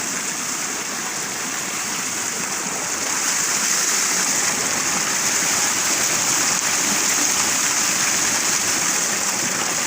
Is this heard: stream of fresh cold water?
yes